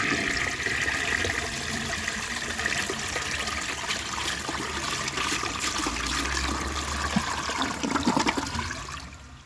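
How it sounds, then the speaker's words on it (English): A 1948 Kohler Brooklands toilet flushes in one long, loud rushing surge of water with gurgling and trickling, close and alone, before tapering off at the end. "I'm going to go ahead and give this another flush and see how much of that it can take."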